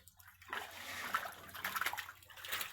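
Water pouring into a fish tank, a soft continuous rushing and splashing that swells and fades quietly for a few seconds with no talking.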